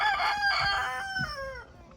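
Brahma rooster crowing nearby, one long drawn-out call with falling harmonic tones, fairly loud and clear over faint soft farmyard rustling.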